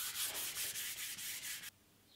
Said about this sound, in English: All of the surfaces are rubbed down with 400 grit, in readiness for the top coats.